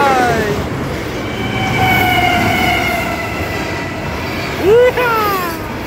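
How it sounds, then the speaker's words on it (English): A long freight train with a DPU locomotive passes loudly nearby, with a continuous roar of wheels and cars, drawn-out metallic squeals, and a sharp whistle-like screech near the end. "All right, we got ourselves a DPU. All right, coming out. Got ourselves a metal locomotive."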